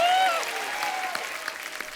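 A studio audience on an Indian comedy talk show applauds as guests are welcomed onto the stage, a brief burst of clapping that follows a fading announcer's voice.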